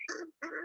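A happy pet, excited while being rubbed on her sides, gives two short, honking calls much like a small Canada goose, close and fairly loud with a brief gap between them.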